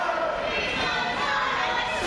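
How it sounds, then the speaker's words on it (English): A wrestling crowd cheers and roars for Sweet and Sour Larry Sweeney, a dense, steady wall of voices filling the arena without a break. "listen to this crowd come alive for Sweet and Sour Larry Sweeney"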